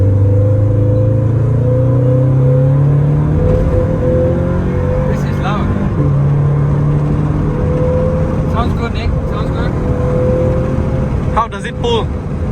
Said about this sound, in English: Let's hear this car, how it sounds like.